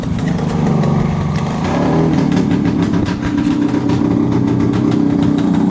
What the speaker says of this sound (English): She's warmed up enough now. Riding by itself. Got it okay idle.